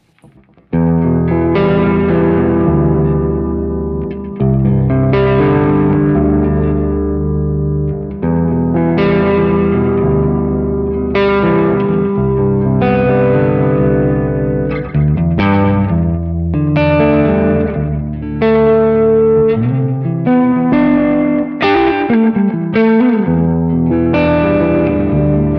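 Electric guitar run through HeadRush Gigboard effects, with loud chords strummed in repeated phrases under overdrive and chorus, sustained and unbroken for about twenty-five seconds with no talking.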